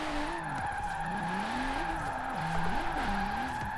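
Nissan 370Z drifting in Forza Horizon 4, its engine wavering up and down as the revs swing, under a continuous close tire skid and squeal.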